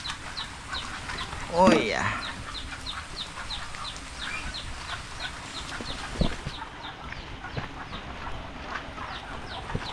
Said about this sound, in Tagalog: mukhang marami ng ating sisiw